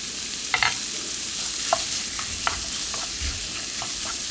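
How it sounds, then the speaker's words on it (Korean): Pork and garlic stir-frying in perilla oil in a pan: a constant close sizzle with scattered clicks and scrapes of a utensil stirring, no voices. "살살살살 볶으면 기름이 나오죠?"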